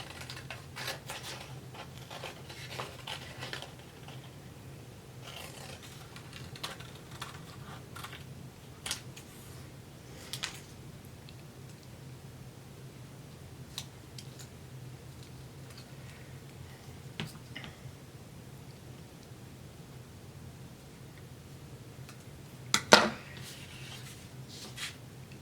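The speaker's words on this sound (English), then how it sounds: "But I will just hurry and cut this out." Paper card sentiment being cut out by hand with scissors, heard as faint, scattered snips and light ticks over a quiet background, with one louder clack near the end.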